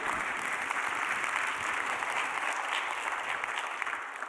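Applause from a church audience, a dense, even wash of many hands clapping continuously at moderate distance.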